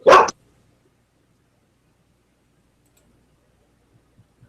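A single short dog bark, loud and close, sounds at the very start, followed by near silence with a few faint distant thumps.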